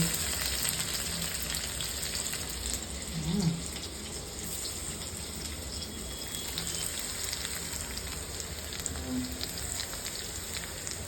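Garlic fries gently in a pan for Hakka noodles, giving a steady, soft sizzle with a faint watery crackle that runs evenly throughout.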